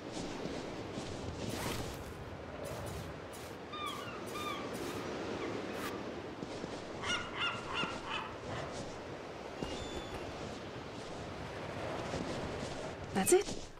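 Goose-like honking birds in a video game call in short repeated bursts amid a busy ambient soundscape with scattered sharp thumps, while a person talks over it at times.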